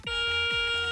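A Garrett Euro Ace metal detector rings a bright, sustained bell-like tone over a non-ferrous musket ball, with short low sweeps pulsing underneath it.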